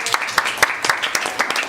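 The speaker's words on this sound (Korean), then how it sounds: "큰 박수를 맞아주시길 바랍니다." Seminar attendees welcome a speaker with applause, a smaller group whose individual sharp claps stand out in an uneven, moderately loud patter.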